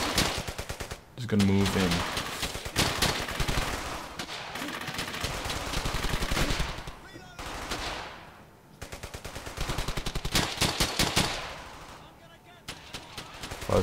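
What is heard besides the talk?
suppressing machine gun fire in Brothers in Arms: Hell's Highway video game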